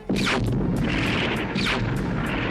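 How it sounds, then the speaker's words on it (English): Megatron's arm cannon from Transformers fires in a burst of heavy blasts and crashing booms, loud and close, with sweeping whooshes between shots. "In robot form, he was equipped with a huge cannon on his arm, and the sound effects for this was brilliant."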